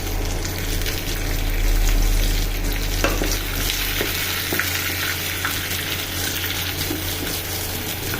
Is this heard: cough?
no